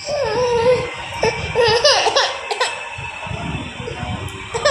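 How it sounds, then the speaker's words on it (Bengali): A person with a bad cough coughs several times in short bursts, close and fairly loud, mixed with breathy laugh-like sounds and faint background noise. "আমার এত কাশি হয়েছে"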